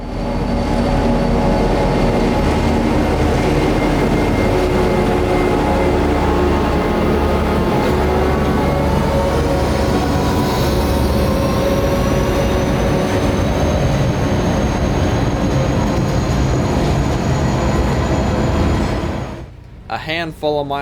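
Loaded juice train 0823 rolls into Yeoman Yard, diverging through Control Point TS with a heavy, sustained rumble. High wheel squeal rises and falls over the constant roar, which cuts off abruptly near the end.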